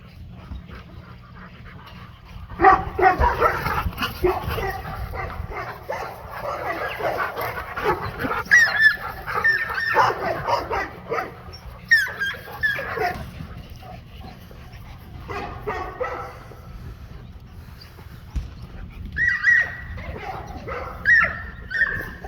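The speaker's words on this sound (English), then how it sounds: "Out here with two of my Rottweiler bitches, Roxy and Tori." Two Rottweilers outdoors give scattered barks, whimpers and panting, close by and intermittent, with a brief quiet stretch before more whining near the end.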